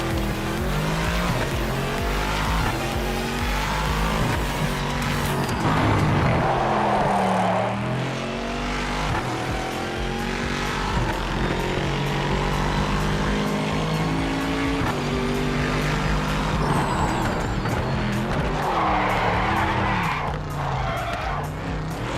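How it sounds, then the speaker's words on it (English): A race car in a VR racing game runs a track with a steady engine drone, breaking into tire squeal and skidding several times as it slides, loud and continuous throughout. "I've actually been trying to save it from going off the track when I start to skid"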